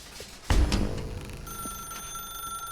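A telephone bell starts ringing after a moment of quiet, with a sharp burst followed by a sustained ringing tone that fades somewhat, moderately loud and alone.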